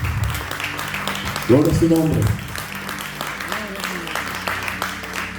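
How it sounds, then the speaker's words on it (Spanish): A church congregation applauds in a steady wash of clapping under a speaker's voice, with a short sung or spoken phrase rising over the applause partway through. "¿Cuánto le dan un aplauso al Señor?"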